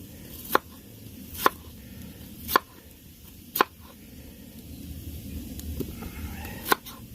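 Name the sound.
cutting up a potato at a campsite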